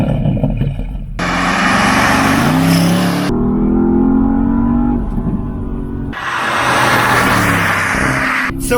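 A loud Porsche Panamera engine roars and revs in bursts, cutting in and out sharply against a 3000 rpm rev limiter, the pitch climbing and dropping as the throttle opens and closes.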